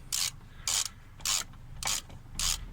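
A ratchet clicks in five evenly spaced bursts while it backs out a brake caliper bolt on a VW Lupo, each burst a sharp close metallic rattle.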